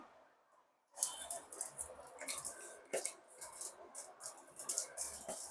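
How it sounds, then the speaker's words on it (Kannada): Mustard seeds spluttering and popping in hot oil for a village-style greens bassaru tempering, a dense run of sharp crackles and small pops starting abruptly after a quiet second and continuing close and fairly loud. "ಸಾಸಿವೆ ಸಿಡಿತಿದೆ."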